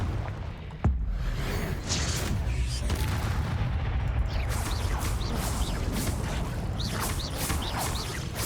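A sharp fire-spell blast goes off near the start of a Hogwarts Legacy fight, followed by a dense roar of magical combat with whooshes and chirping effects over continuous game noise.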